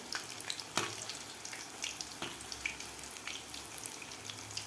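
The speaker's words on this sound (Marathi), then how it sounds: "थोडासा ब्राऊन कलर होईपर्यंत आपल्याला हे तळून घ्यायचं आहे" Soybean pakoras deep-fry in hot oil with a soft, steady sizzle and bubbling, broken by faint clicks and crackles, heard at a low level with no talking.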